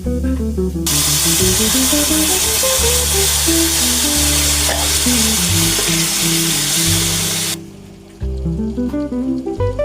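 Cooked beef and koorka stir-fry in a browned masala with a loud, continuous hiss and sizzle, a melodic music track playing over it and no talking.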